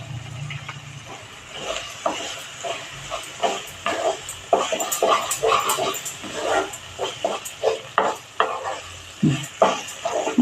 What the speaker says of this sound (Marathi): अजून 5 मिनटं आपण ढवळूया